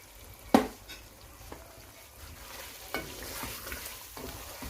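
Beef haleem masala with yogurt sizzles in a pan while a spoon stirs it, with a sharp scrape near the start and further soft scrapes over a steady close frying hiss.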